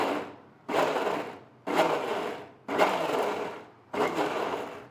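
A mixer grinder blends hung curd and mango in short pulses: four roughly one-second bursts of whirring motor and churning, each starting sharply and tapering, separated by brief silences, loud and close.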